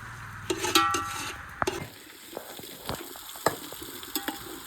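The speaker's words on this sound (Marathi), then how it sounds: "कांदा मिरची वगैरे त्याला परतवून घेतात." Onion and chilli sauté in a pan on an outdoor wood-fired stove in a courtyard, giving a soft sizzle under sharp metallic stirring clanks and scrapes. The clanks are louder at the start, and no one speaks.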